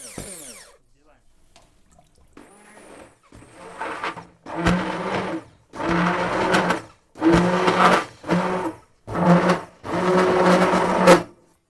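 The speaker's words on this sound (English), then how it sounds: "Now we just blend the soup with a blender." A blender whirs through broccoli cream soup in a series of about six loud bursts, each lasting roughly a second with brief stops between. The pulses grow stronger after a quieter start.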